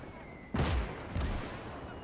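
Enemy gunfire striking a mortar position in the World War II strategy game Call to Arms: two loud, sharp bursts about half a second apart, each fading into a low rumble over a steady background hiss.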